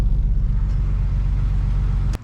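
A work truck's engine idling close by, a steady deep rumble that holds evenly before a brief knock near the end.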